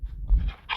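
A pet dog in the Minecraft video game whimpers and pants briefly, a short soft cry heard close with no speech.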